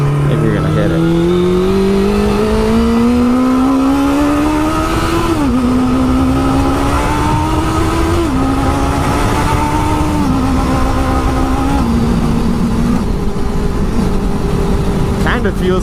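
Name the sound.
motorcycle engine revving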